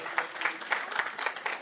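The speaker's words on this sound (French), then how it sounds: "je vais tout de suite appeler sous vos applaudissements, mesdames et messieurs, monsieur Mamadou Dian Bari" Faint, distant applause from a crowd at a Guinean independence anniversary gathering, with scattered sharp claps standing out from a soft, continuous patter of many hands.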